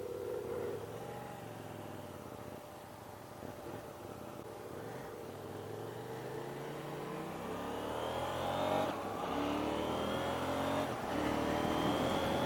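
KTM 790 Duke motorcycle engine revving while riding, with rising and falling pitch through gear changes with a quickshifter and auto blipper, loud and steady under wind rush.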